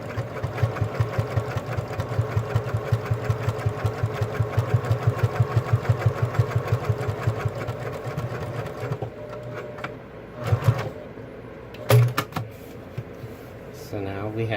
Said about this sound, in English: So now we have top stitched all the way around.